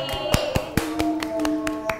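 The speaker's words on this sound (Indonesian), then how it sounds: "Kita beri tepuk tangan buat Mbak Nindi Yang sudah berani menyanyikan hari ini" A few sharp, scattered claps ring out for a student in a virtual fourth-grade class, sounding like a handful of people clapping irregularly rather than a full room applauding.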